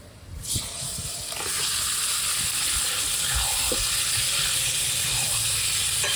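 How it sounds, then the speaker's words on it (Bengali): Marinated chicken going into a kadai of well-browned onions, a quiet start that swells within a second into a loud, continuous frying sizzle that holds steady. "এবার মাখানো মাংসটা কড়াইয়ের মধ্যে দিব"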